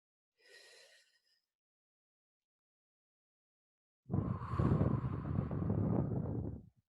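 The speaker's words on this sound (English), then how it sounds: "So let's do a few big deep breaths." A person takes a deep diaphragm breath: a short quiet inhale, a pause of silence, then a long, loud, breathy exhale lasting nearly three seconds, close to the microphone.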